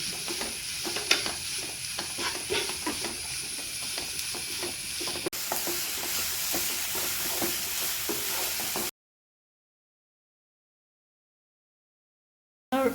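Chopped onions fry in a pan while being stirred for soya fry, giving a steady close sizzle with scraping stir strokes for about nine seconds, then silence before a brief burst of sizzling at the very end.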